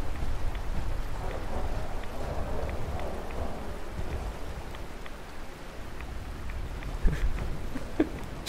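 Rainy weather in the video game Fallout 4 brings a continuous, moderately loud patter of rain on surfaces, with a few sharper drops and faint thumps near the end.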